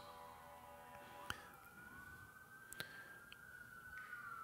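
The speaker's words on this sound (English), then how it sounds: "If you can hear those sirens in the background" A faint siren wailing in the distance, its pitch slowly rising and falling over a quiet background with a few soft clicks.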